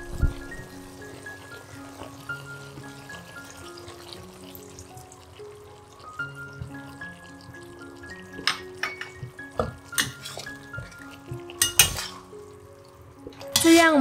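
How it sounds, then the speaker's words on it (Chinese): Mixed vegetable curry with soy milk is stirred in a pot, giving soft liquid sloshing and scattered utensil clinks against the metal, sparse at first and then busier and louder, under quiet background music. "焖煮好后，打开锅盖，倒入豆奶，翻炒均匀"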